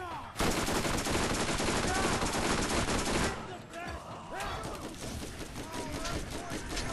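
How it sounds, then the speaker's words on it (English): Rapid SMG fire from the shooter game Borderlands, a dense stream of loud shots in two long bursts separated by a brief lull, with someone talking over the gunfire. "I'm gonna use the SMG for a little bit"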